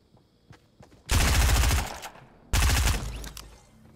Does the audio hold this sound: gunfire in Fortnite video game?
yes